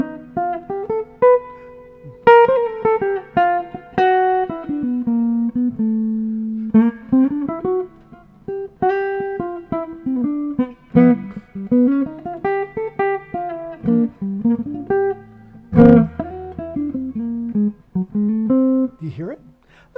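Whole tone scale runs played over a jazz chord progression, a solo instrument moving through shifting chords with melodic flourishes and resolutions, steady and close for about twenty seconds with no talking.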